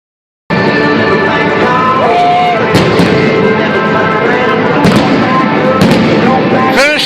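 Fireworks crackle and boom continuously over a large cheering sellout crowd at Great American Ballpark in Cincinnati, with sharp bursts popping through a dense, roaring wash of noise.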